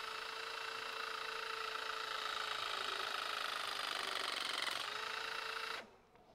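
A powered press fitting tool clamps a 15mm gas pipe fitting, a steady motorised whir running for about six seconds at close range before cutting off abruptly as the jaws finish.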